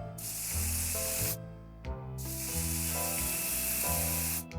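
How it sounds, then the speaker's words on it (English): Bug spray hisses from a can in the game 60 Seconds, two long bursts with a brief pause between and a short puff at the end, over faint background music. "Oh, it's a bug spray?"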